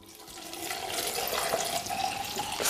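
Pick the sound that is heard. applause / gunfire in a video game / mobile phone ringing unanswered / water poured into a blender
water poured into a blender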